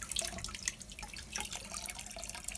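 Water trickles and drips from the hose on a water heater's open drain valve, a continuous splashy patter running close and unbroken, draining the last of the tank and pipe with no voices.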